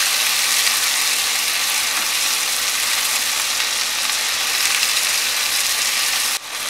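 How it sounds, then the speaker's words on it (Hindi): Cluster beans frying in hot oil over a medium flame give off a steady, loud, dense sizzle that runs unbroken, then dips briefly near the end. "अपनी फलियों को मिक्स करके हमने 2 मिनट बहुत अच्छे से भून लिया है ऑयल के अंदर और अच्छे से फ्राई हो गए हैं ये"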